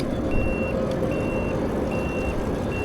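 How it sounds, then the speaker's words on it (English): An electric trike's turn signal beeps in a steady, evenly spaced series of four high tones over constant road and motor noise, heard close while riding. "There's that cue for the turn signal."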